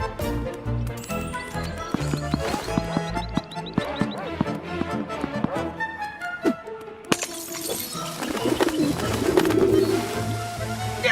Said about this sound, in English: First we need to get rid of these pigeons.